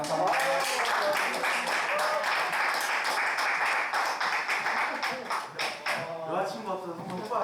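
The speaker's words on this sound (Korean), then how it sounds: "이제 우리 다시 한번 강사님께 큰 박수 부탁드리겠습니다" An audience at a lecture claps for the speaker, a dense steady roll of many hands continuing throughout and thinning slightly near the end, with voices talking over it.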